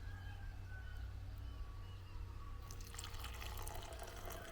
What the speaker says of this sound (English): that FIREMAPLE ramen pot pours really nicely